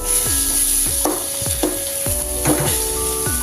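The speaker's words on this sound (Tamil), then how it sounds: "இப்போ தக்காளி மட்டும் நல்லா வதங்கணும்" Tomatoes with salt sautéing in a pan, giving a loud, close, constant sizzle, with the spatula scraping and knocking against the pan in a steady rhythm about twice a second.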